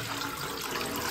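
Water pours in a steady, close stream into the bottom section of a steamer pot set on a gas stove, a continuous splashing rush without pauses or talk.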